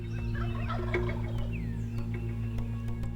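Wild turkeys gobble outdoors in a rapid, rattling burst, mixed with other bird calls over a steady low rumble.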